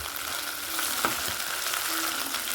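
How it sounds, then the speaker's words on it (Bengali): Chopped tomato, salt and spices frying over fried garlic in a pan for a bhetki fish curry, a steady close sizzle broken by a couple of sharp stirring scrapes. "সব মশলাগুলো ভালো করে কষিয়ে নিচ্ছি"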